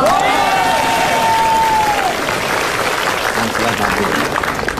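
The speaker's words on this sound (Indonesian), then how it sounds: "Tepuk tangan yang meriah." A studio audience on the Trans 7 talk show Bukan Empat Mata breaks into lively applause with a rising whoop at the start, then keeps clapping steadily as voices continue underneath.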